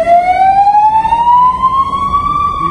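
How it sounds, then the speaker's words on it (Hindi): A fire engine siren wails loud and close in city street traffic in Portugal, holding one steady rising tone over the rumble of vehicles. "Fire brigade."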